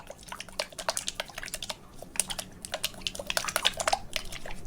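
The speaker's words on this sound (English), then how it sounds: "take out a bottle of the confetti magic liquid and make sure to shake well for best results." A bottle of Elmer's confetti magic slime liquid being shaken, giving a quick run of small wet sloshing and rattling bursts in irregular clusters, close and fairly quiet, with no talking.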